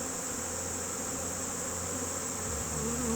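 Honey bees buzz steadily around an opened hive in a honey production yard, a dense, continuous close-up drone with no talking.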